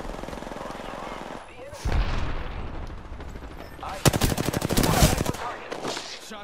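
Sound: gunfire in a video game (Apex Legends, Mirage)

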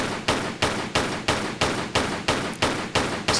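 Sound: gunshots at a crocodile in Tomb Raider III video game

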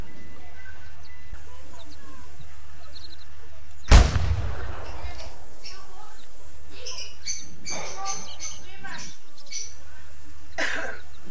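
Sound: rifle gunshot in hunting video game The Hunter

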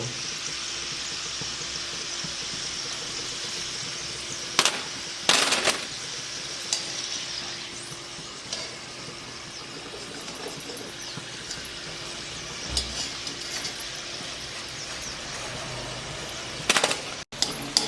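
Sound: potato snack frying in hot oil in a kadhai

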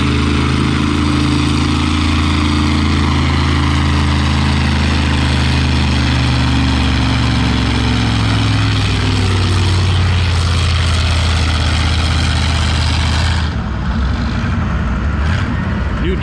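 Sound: International W9 tractor engine pulling at a tractor pull

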